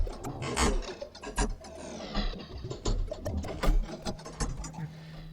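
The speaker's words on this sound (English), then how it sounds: "this Alchemy Synth is just really fun for sound design" Tweaked Alchemy synth preset in Logic Pro X producing a busy mechanical texture of ratcheting, gear-like clicks and swelling noisy bursts, fluctuating in loudness.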